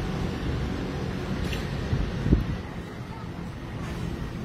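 Constant low rumbling buffeting of wind against the microphone, with a brief louder gust partway through and faint background sounds.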